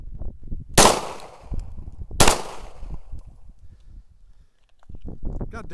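Two sharp, loud Glock 19 pistol shots ring out outdoors about a second and a half apart, each with a short ringing tail, amid low rustling and handling noise.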